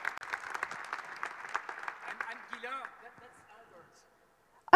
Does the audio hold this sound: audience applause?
yes